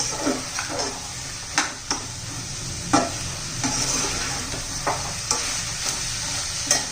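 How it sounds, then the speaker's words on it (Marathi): Vegetables and green peas for a matar veg pulao sauté in a pan under a steady sizzle, with repeated sharp scrapes and clatters of a spoon stirring at irregular intervals, fairly close. "छान सर्व असं सर्व व्यवस्थित परतून घेणार आहोत"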